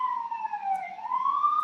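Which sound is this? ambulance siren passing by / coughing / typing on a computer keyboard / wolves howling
ambulance siren passing by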